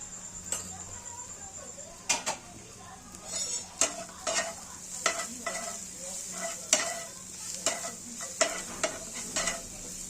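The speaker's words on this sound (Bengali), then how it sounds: "ভালো করে নাড়িয়ে যাতে আদা রসুনের কাঁচা গন্ধটা না থাকে সেইভাবে ভেজে নেব" Ground spices with ginger and garlic frying in a pan, sizzling under repeated sharp scrapes and clinks of a spoon stirring against the metal, with faint speech in the background.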